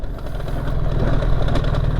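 A BMW R 1300 GS trail motorcycle engine runs with a steady, throbbing low-pitched pulse, loud and close, with no talk over it.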